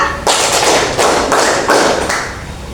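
Seventh-grade pupils standing in class clap a rhythm in unison: five or so sharp, full-room bursts of hand claps, loud and near, with brief gaps between groups.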